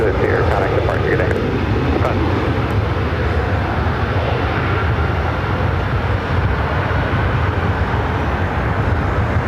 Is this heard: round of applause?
no